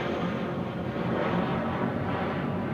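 A Lufthansa airliner going around at Barcelona El Prat airport gives off a steady, unbroken broadband roar that holds at a constant loudness throughout, with no voices.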